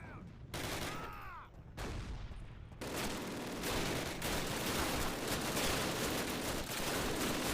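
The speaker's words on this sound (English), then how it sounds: "This cannon's about to go boom." Heavy cannon and gunfire booming through a chaotic World War II battle scene in the 2003 shooter Call of Duty, loud sustained blasts and crackling fusillade filling the space, with a brief burst of speech-like noise underneath.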